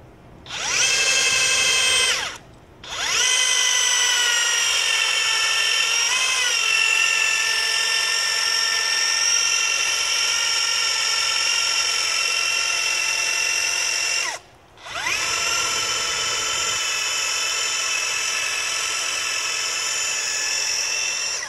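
A PowerClimb motorized rope ascender hauls a climber up a rope with a loud, steady high-pitched motor whine, running in three long bursts separated by brief stops, with the pitch dipping and shifting as the load changes.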